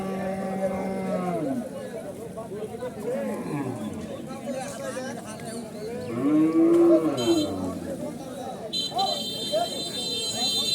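Several cows mooing in long, drawn-out calls at a cattle market, some overlapping, amid people chattering and a buzzing tone near the end.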